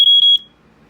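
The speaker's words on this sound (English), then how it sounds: "So, you see, it does have a piezo. It does has sort of a rapid" Early-1980s First Alert smoke alarm with a piezo sounder gives a loud, shrill piezo beeping, with three quick pulses packed into under half a second before it cuts off, leaving faint room noise.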